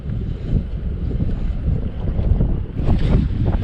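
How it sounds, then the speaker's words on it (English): Strong wind roars and buffets the microphone on a fishing boat in late winter, a dense rumbling gust noise with some water sounds underneath, steady and loud throughout. "Yeah, this wind's bad."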